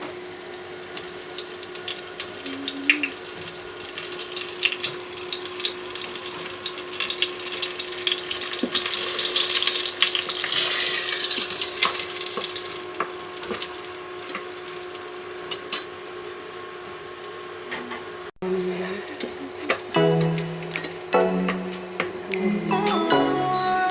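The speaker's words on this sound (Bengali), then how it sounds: "তো এবার কিন্তু কড়াইতে দিয়ে দেওয়া হলো। তো এবার ভাজা হচ্ছে।" A mughlai paratha frying in a wok gives a continuous hiss and bubbling of oil, with a steady hum underneath and scattered clatter toward the end.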